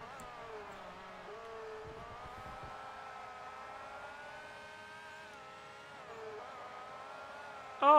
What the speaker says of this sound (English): looks like we've broken the engine noises again.